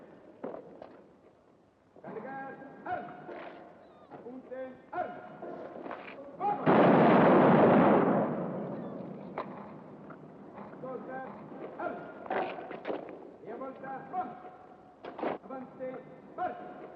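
Artillery batteries fire cannons in a film battle scene. A single loud, rumbling blast lands midway, surrounded by steady voices talking before and after.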